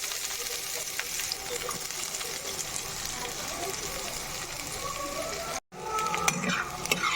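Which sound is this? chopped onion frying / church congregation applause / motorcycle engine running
chopped onion frying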